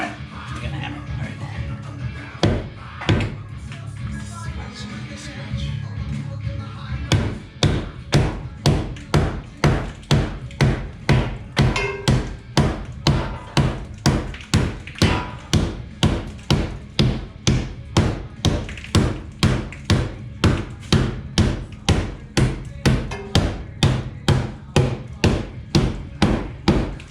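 A hammer strikes steadily during a clutch and flywheel install on a 1967 Buick Skylark GS, with loud, evenly spaced metallic blows at close range that follow a stretch of busier workshop noise.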